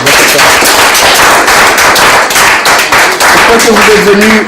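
A live audience applauding in a dense, loud burst of rapid clapping that runs continuously, close and full, with a voice rising briefly near the end.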